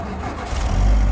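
A petrol car engine runs close by, a rough, steady rumble that swells and grows louder toward the end as it picks up revs.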